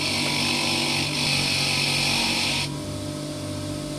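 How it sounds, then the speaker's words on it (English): A bench grinder or belt sander shapes a metal key in a short burst, with a loud steady grinding whir that drops off abruptly near the end. "Go over to my belt sander, my bench grinder"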